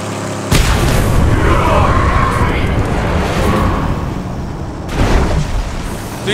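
Heavy booming tank explosions in Mad Max hit close and loud, one at the start and another a few seconds later, with rumbling debris between.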